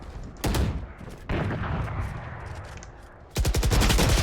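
Gunfire in a Valorant match: sharp rapid-fire bursts, loud and close, with a short burst at the start, a softer spell in the middle and a fast rattling spray at the end.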